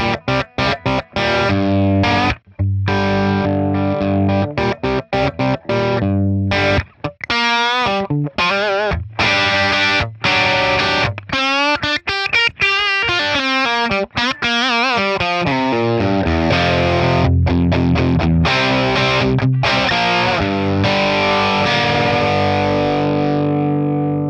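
Electric guitar played through an overdriven 1963 Fender Brown Deluxe tube amp with reverb off, loud and gritty, with sustained chords and single-note phrases ringing out in a continuous passage.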